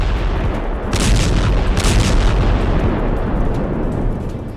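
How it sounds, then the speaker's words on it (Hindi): Israeli strikes in Lebanon, with heavy rumbling explosions and booming blasts in a loud, continuous wash of low roar and distant-sounding bursts. "लेबनान में इजराइल के इन धमाकों को देखकर"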